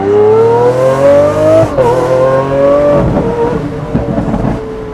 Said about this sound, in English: I actually love the Corsa gear changes.